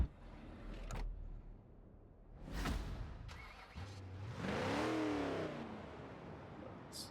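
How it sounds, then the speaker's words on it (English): An old truck engine in Forza Horizon 4 revs and rises in pitch, with a whoosh and a brief mechanical clunk earlier, heard at moderate loudness without speech. "It's very, very old school engine sound from the truck here."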